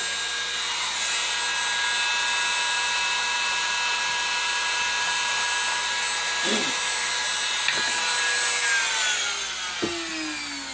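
Rotary tool grinding flashing off a small resin cast, a steady high whine that runs unbroken, close up, with brief scraping contacts and a pitch dip near the end.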